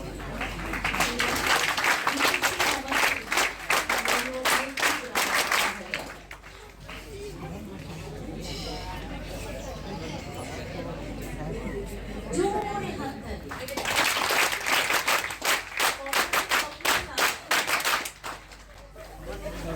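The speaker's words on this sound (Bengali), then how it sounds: "তোমরা হাততালির শব্দ শুনতেই পাচ্ছ।" An audience claps at a college debate prize-giving in a hall, with dense bursts of applause at the start and again near the end and voices in between.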